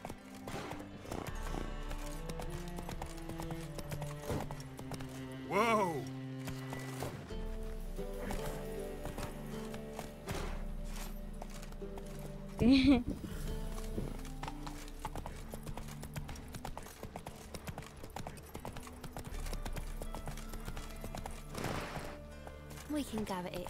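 Clip-clop of the horse Roach galloping in The Witcher 3 video game, a steady rhythmic hoofbeat running throughout under music, with a brief whinny midway and a player talking over it.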